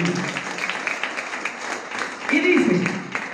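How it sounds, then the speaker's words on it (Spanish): A church congregation claps steadily through the clip, loud and close, and the applause swells near the end while voices sound over it. "puede aplaudir al Señor fuerte, ¿eh? Apláudele al Señor"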